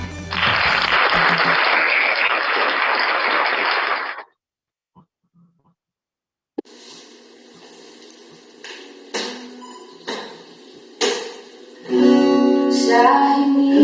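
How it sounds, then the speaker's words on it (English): A burst of applause rings out for several seconds, then stops abruptly; after a pause, music with chimes and tones begins. "A virtual round of applause."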